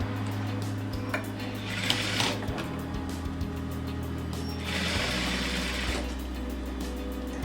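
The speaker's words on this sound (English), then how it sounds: "when I sewed, I just sewed down a little bit into the curve and then across." A sewing machine stitches the corner of a cushion cover, running in a steady close hum with rapid needle ticking, and a couple of louder stretches as the stitching continues.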